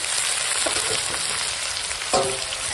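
Meat fries in a pan with ginger-garlic paste, tomato and capsicum, giving a dense, steady, close sizzle with a brief stirring clatter near the end.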